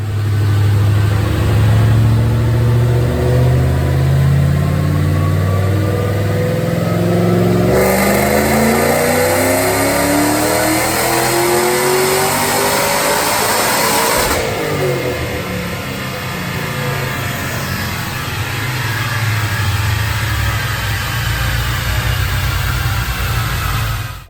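Supercharged 2008 Ford Mustang GT with a Roush blower running about 9 PSI of boost and Detroit Rocker cams, roaring on a dyno through sustained full-throttle pulls that rise and fall in pitch, loud and close with no talking.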